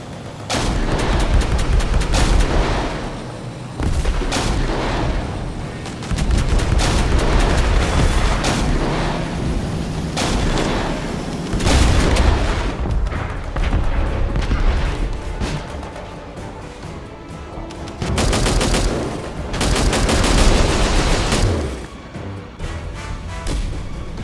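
Turrets firing in the sci-fi shooter Angels Fall First, loud repeated booming shots and bursts of gunfire in rapid clusters, with short lulls between volleys.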